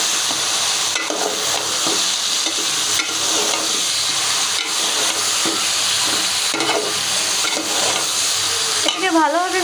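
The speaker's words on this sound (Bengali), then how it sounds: "হলুদের গুঁড়া দেওয়ার পরে এটাকে আমি ভালোভাবে নাড়াচাড়া করে পুরোটাকে মিক্স করে দেব।" Banana curry frying in a pan after turmeric powder goes in, a constant loud sizzle with soft scraping from steady stirring throughout.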